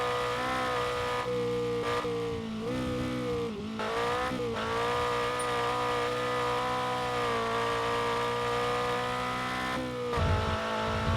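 Race car engine in the RevHead video game on its final lap, a loud sustained drone that holds steady with gear-shift dips and rises, brief revs near the start and end, no voices.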